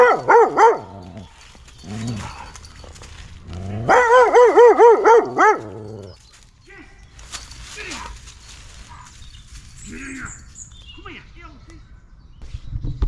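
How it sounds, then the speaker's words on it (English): A dog barks in loud repeated bursts close by, two clusters of rapid barks followed by quieter yips and whimpers, while people talk nervously between them outdoors on a housing estate. "That dog doesn't like us."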